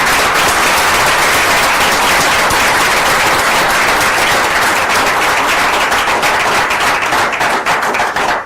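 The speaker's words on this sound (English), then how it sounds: "please help me in bringing an appreciation and applause to Professor Hess and Francisco Salazar" Sustained applause from an audience honoring Professor Hess and Francisco Salazar after a talk on liquefied natural gas development in Mexico, loud, dense clapping throughout, thinning slightly toward the end.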